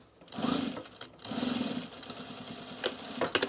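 A sewing machine stitches across the seam allowance of a trouser pocket near a box seam, running in two close bursts with a short pause between, followed by softer handling noises and small clicks.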